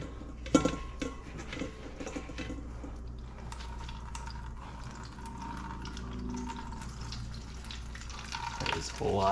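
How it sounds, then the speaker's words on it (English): Liquid drained from grated zucchini through a cheesecloth-lined colander, a soft continuous trickle and patter of water with light splashes, close and fairly quiet throughout. "I'm gonna strain this and get as much liquid out of it as I can."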